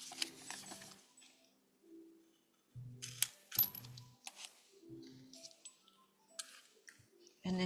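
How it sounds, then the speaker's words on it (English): A hand hole puncher clicks through paper in a quiet room, giving a scattering of small, sharp snaps and faint rustles spread over several seconds. "Punch a hole right there."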